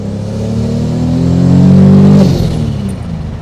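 A Toyota 2JZ Supra fitted with a Precision turbo accelerates hard, its engine note climbing in a loud, close rising pull before easing off, with no talking over it.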